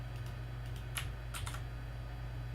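Keys on a Mac keyboard are pressed for a shortcut, a few soft, close clicks spread over a couple of seconds against a quiet background hum.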